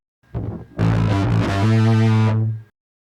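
Bass guitar played through a parallel-processing pedal chain with a filter and reverb: a short plucked note, then a loud sustained saturated low tone with bright effected overtones that rings out and stops abruptly.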